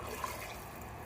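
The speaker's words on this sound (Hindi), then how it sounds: "अब मैं डाल दूँगी इसमें गरम गरम पानी।" Hot water pours into a pan of rajma and dal masala, a brief steady trickling splash heard close up.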